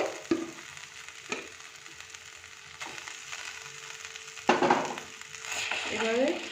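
Rice and potato frying in ghee in a pan, a soft continuous sizzle with a few sharp stirring clatters and scrapes, growing busier near the end.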